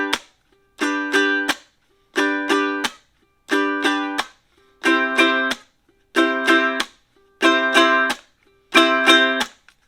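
A baritone ukulele strummed in a down, down, chuck pattern: all four strings hit and then palm-muted, repeating in about eight even groups of bright chord strokes, each cut off sharply, played alone with no voice.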